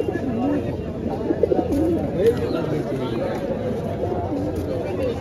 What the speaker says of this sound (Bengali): এখানে অনেক কবুতর।